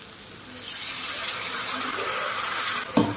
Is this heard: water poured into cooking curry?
yes